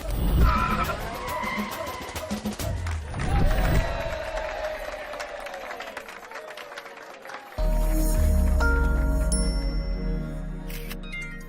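Vehicle pulling away hard with tires skidding, loud screeching and engine noise close by, followed by a sustained roaring drive-off, amid a busy scene in a comedy film with police officers.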